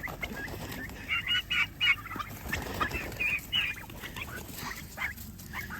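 Several six-week-old turkeys gobble and chirp in short bursts close by at their coop, with a dog barking among them and outdoor background noise.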